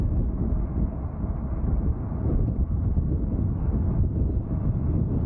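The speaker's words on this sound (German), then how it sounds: "Und ganz schön Wind" Strong wind blows outdoors, a constant low roaring rumble buffeting the microphone with no pauses and no voices.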